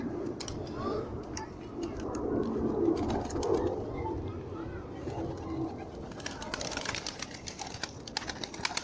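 Pigeons cooing in a loft at feeding time, a steady soft murmur of low coos with scattered clicks and wing or feed taps, moderately close, continuous throughout.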